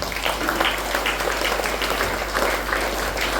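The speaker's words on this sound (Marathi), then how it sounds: "प्रभू येशूच्या स्वागत करत टाळ्या वाजवूया." A church congregation claps together in welcome, a continuous dense patter of many hands at fairly close range, with no talk over it.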